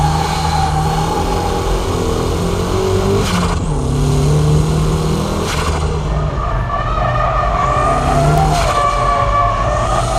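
A car drifts through S-curves, its engine droning steadily and loudly with shifting revs and tire squeal woven through the whole stretch.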